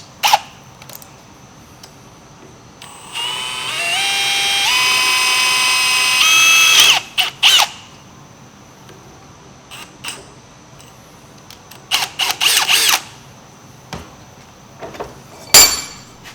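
A power drill with a 1/8 inch bit whirs steadily for a few seconds boring a pilot hole, its pitch rising as it bores, followed by scattered clicks, knocks and handling noises.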